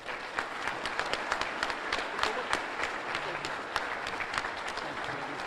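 An audience claps steadily to welcome Governor Jeff Landry at a State of the State address in Monroe, dense moderate applause from a crowd with scattered sharper claps, continuing evenly.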